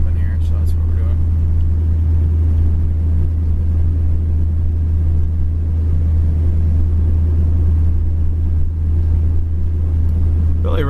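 A 1964 Chevrolet Impala SS cruising on the road at around 35 mph, its engine and road rumble a steady, loud low drone throughout, with someone talking over it.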